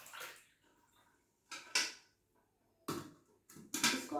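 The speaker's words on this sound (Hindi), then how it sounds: "ये चलनी है और ये पानी, इसको हम लोग पानी को गिराएंगे, ऐसे पानी गिर रहा है" Water poured from a glass through a kitchen sieve during a simple surface-tension physics demonstration, heard as short splashing and trickling bursts separated by quiet gaps, fairly close and moderately soft.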